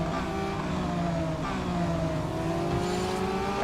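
A Lamborghini race car in the mobile racing game Real Racing 3, its engine holding a steady high whine with gear-shift dips and rising pitch sweeps, loud and continuous with faint tire and track noise beneath.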